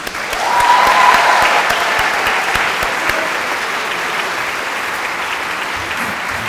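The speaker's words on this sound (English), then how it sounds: "please give them another round of applause" A large audience at a graduation ceremony applauds loudly and steadily, a dense wash of clapping that swells quickly and then holds on for several seconds.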